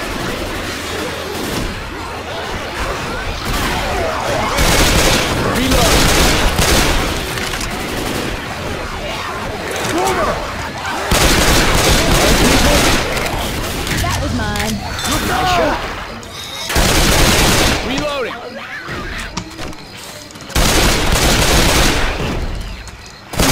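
Heavy gunfire in Left 4 Dead 2 while fighting zombies, sustained loud bursts of automatic shooting with brief lulls, mixed with game noise and players talking over it.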